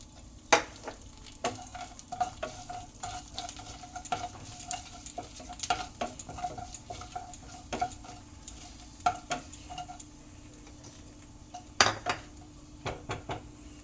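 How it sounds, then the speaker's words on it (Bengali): Dried red chillies and panch phoron crackle in hot oil over low heat for a chutney, a quiet continuous sizzle broken by sharp spoon-on-pan clinks and scrapes at irregular intervals. "এবার আঁচটা কমিয়ে দিয়ে শুকনো লঙ্কা ফোড়ন দিয়ে দিলাম, আর 1/2 চামচ পরিমাণে 5 ফোড়ন দিয়ে দিলাম"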